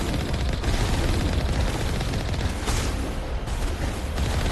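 Dense video game gunfire rattles in continuous bursts, a loud noisy barrage with no clear gaps between shots.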